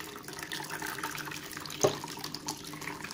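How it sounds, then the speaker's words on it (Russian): Water from a watered potted orchid drains and trickles into a container, a steady soft flowing wash with one brief louder splash midway. "я воду сливаю опять в такой же горшочек, бокал ли, стакан ли, в чем поливаю."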